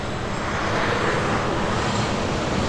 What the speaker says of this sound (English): the airplane is so low, it looks like it's like just riding on top of these buildings